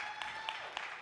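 Audience applause fills a large convention hall during a business presentation, a brief, steady wash of clapping with no pauses.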